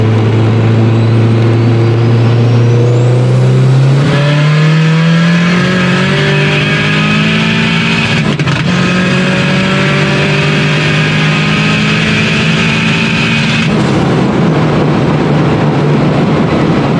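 A loud car engine revs and climbs in pitch, holding a strong steady drone with rising harmonics, then settles back, continuous throughout with no talking.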